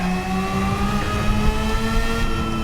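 A Honda S660 small sports car engine accelerates, its steady whining drone rising slightly in pitch under continuous road noise, close and fairly loud with no talk.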